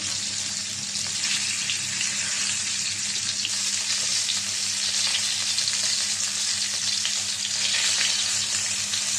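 Tilapia fish fries in hot oil for crisp pieces, a dense, steady sizzling hiss that stays even and close throughout, with a faint low hum below and no voices.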